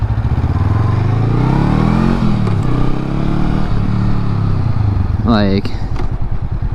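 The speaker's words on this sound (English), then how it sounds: "Switched back to the stock exhaust, and it's quiet." A Honda Rebel 500 motorcycle with its stock exhaust runs at a quiet, steady low rumble throughout, while someone talks over it.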